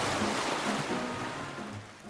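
In an animated folk fairy tale, river water sloshes and rushes in a steady, fairly loud broadband wash that fades slightly at the end, with no speech.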